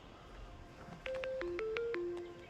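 Quiet electronic phone ringtone playing a short melodic sequence of tones, clear but not loud, after a moment of low background noise.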